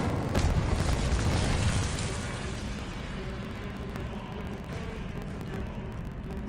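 Incendio fire spell cast in Hogwarts Legacy, a sharp burst that swells into a roaring, crackling whoosh of flame and settles into a sustained rumble over several seconds, with no talking.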